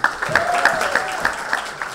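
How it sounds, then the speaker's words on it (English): At a cancer charity event tied to MMA, the audience applauds for the co-host, with a few sharp, distinct claps standing out over a softer crowd clapping and a faint voice underneath. "Big round of applause, please, for my co-host for tonight, Ms. Karyn Bryant."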